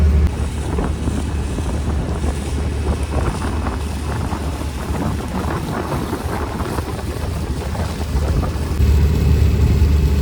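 A passenger boat's steady, rumbling engine drones continuously on Vembanad Lake toward Muhamma, Alappuzha, beneath wind buffeting the microphone, with the engine swelling slightly louder near the end.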